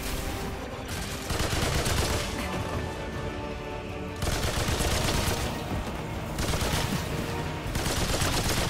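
Rapid gunfire from the video game Remnant 2 during a boss fight against the Bloat King, loud and continuous bursts across the whole stretch with brief lulls between volleys and no talking.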